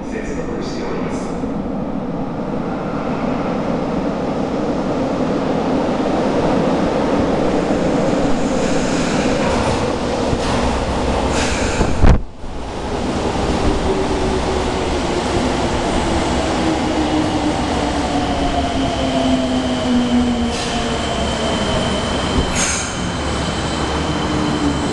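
A Fukuoka City Subway Hakozaki Line train runs into Hakozaki-Kyudaimae station with a steady rumble, wheel squeal and a brief clunk midway, while station announcements play over it.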